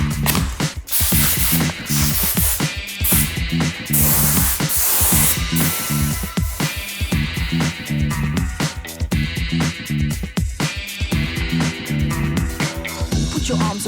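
A minigun spray gun with a 1.0 mm needle nozzle lays flat clear coat onto a 2021 S-Works bicycle frame, a loud close hiss in steady bursts, while music plays underneath.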